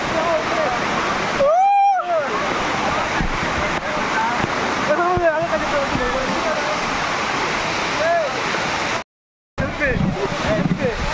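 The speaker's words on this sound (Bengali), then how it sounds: "এটার নাম হচ্ছে চেরি ফলস" Cherry Falls, a waterfall near Mangaluru, gives a loud, steady roar of rushing water broken by a short dropout. A voice speaks over the roar at intervals.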